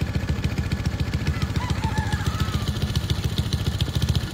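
An electric waste oil pump motor idling, a steady rapid pulsing hum with a faint mechanical clatter, close and constant throughout.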